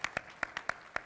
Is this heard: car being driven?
no